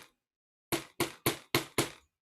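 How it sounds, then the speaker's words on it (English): A chasing hammer strikes wire on a hard surface to flatten and texture it for wire pins, landing five sharp, evenly spaced metallic blows close up after a short pause. "I'm using a chasing hammer for reference"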